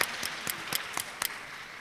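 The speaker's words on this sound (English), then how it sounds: "I want to give them a round of applause" An audience at a West Virginia tourism conference session gives faint, scattered applause, a few distinct claps falling at a loose, fairly even pace before fading.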